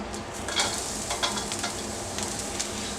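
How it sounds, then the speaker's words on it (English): Vegetables hitting hot oil in a pan for beef chow mein, a close, steady sizzle punctuated by a few brief stirring scrapes, with no voices. "we're just gonna go ahead and go in with our vegetables"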